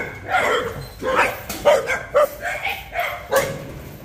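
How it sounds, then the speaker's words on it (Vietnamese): Dogs bark loudly and close by on a Vietnamese cattle farm where chickens roam, a rapid run of about six sharp barks over a few seconds with a low background hum. "Mấy con chó này dữ mà."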